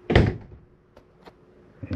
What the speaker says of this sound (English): Close our bedroom door